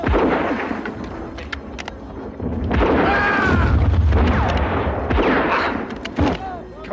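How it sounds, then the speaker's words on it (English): Bombs exploding in a battlefield trench fight in the First World War, heavy booms and blasts rumbling beneath loud shouting voices, with a dense roaring stretch of explosions in the middle. "I got some bombs here, mate."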